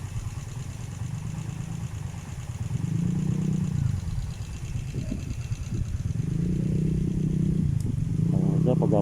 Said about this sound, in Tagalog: may motor na papunta rito.